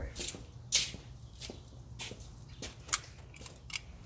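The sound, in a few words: shuffling feet while walking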